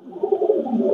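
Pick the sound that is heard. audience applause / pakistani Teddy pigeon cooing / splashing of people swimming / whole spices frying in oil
pakistani Teddy pigeon cooing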